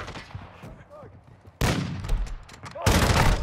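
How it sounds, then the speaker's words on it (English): Gunfire in a video game breaks out in loud, dense bursts of shots, with voices talking under the opening moments before the firing swells and takes over. "Taking effective fire."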